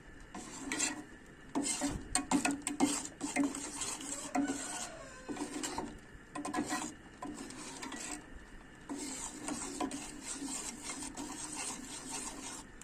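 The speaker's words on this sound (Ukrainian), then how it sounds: "Ставимо на маленький вогонь і помішуємо, щоб наш желатин і агар-агар гарно розтопилися і перемішалися." Spoon scraping and stirring gelatin and agar-agar syrup in a pot over low heat, a steady rasping rub with irregular clinks against the metal, close and fairly quiet, with no talking.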